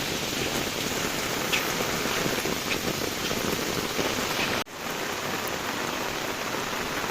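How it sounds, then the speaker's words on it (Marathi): Heavy monsoon rain in Mandangad, Maharashtra pours steadily in a dense, continuous wash of noise, with a brief dip near the end before the downpour resumes. "खूप पाऊस आहे"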